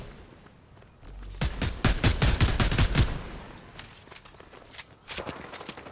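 Enemy gunfire in the Fortnite video game comes as a tight string of sharp rapid shots over about a second and a half, then a few scattered fainter shots and distant pops trail off.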